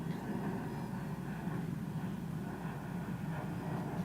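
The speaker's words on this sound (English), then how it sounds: "Probably wait for that airplane up over the head." A fixed-wing airplane passes overhead during a baseball game, a steady low droning engine rumble that fills the whole stretch at even loudness with no clear rise or fall.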